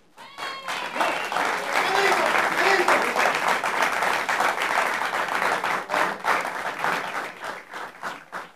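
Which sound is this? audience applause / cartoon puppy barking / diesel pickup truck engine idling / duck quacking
audience applause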